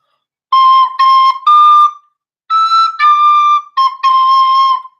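A short melodic phrase on a small wind instrument with a thumb hole, seven or so clear tongued notes in two groups separated by a pause, close and bright with no voices.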